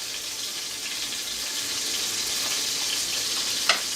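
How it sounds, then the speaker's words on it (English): Steady, loud sizzling and crackling of scallops frying in a hot cast iron skillet, continuous and close, with one brief sharp clink near the end. "It's sizzling! That's what it's supposed to do."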